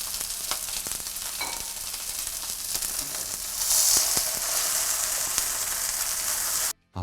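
Salmon fillets fry skin side down in a pan with a steady, loud sizzle and crackle, rising a little partway through, then cutting off abruptly near the end.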